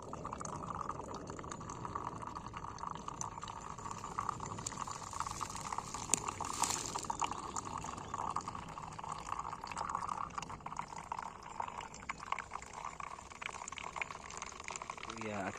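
Water streams steadily through a gravity-fed backpacking filter hanging unsqueezed at a solo wild camp, a continuous pouring and trickling sound running throughout at close range under outdoor ambience.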